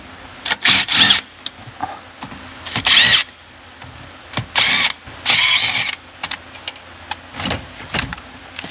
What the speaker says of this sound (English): I will unscrew and remove the fuse box.